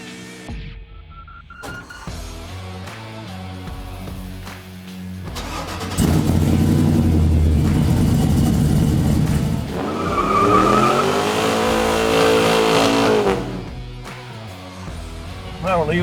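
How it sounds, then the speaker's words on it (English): A 1972 Chevy short-wide pickup, a farm truck rebuilt as a ProTouring hot rod, pulls out of a shop: an engine idles, then revs loudly and climbs through gears as it drives off, fading toward the end. "Well, we're leaving the shop in the 72 short wide pickup."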